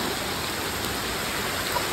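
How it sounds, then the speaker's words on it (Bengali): Heavy rain pours steadily onto a flooded city road after three hours of downpour, a dense, even hiss with no breaks or voices. "পানি 3 ঘন্টা ধরে বৃষ্টি"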